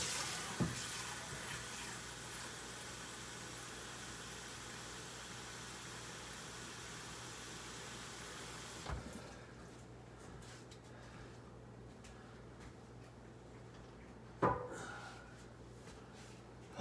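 Water pours steadily from a tap or container for feral cats, a faint continuous rush that stops partway through, followed by quieter outdoor background sound and a couple of soft knocks.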